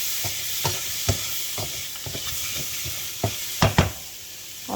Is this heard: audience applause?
no